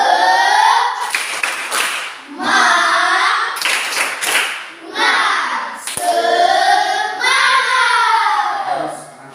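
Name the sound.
group rhythmic clapping, tepuk semangat ice breaker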